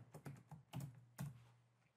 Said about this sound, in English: so let me just type this in.